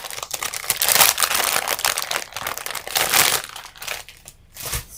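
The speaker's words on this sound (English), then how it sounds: "Sorry for all the crinkling." Close, loud crinkling and crumpling of plastic packaging in dense bursts, continuous for several seconds with brief pauses, while a small piece of black decorating material is pulled out for fake Halloween macarons; no talking.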